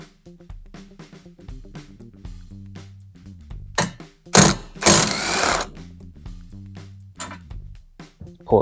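A 15mm socket on a ratchet backing out a bolt on a Can-Am Maverick Sport rear cage, rapid rhythmic clicking up close, then louder clanks and rattles of metal parts.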